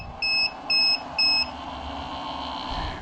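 An inverter powered by a sodium battery sounds its overvoltage alarm with three short, shrill electronic beeps in quick succession, followed by a faint steady hum.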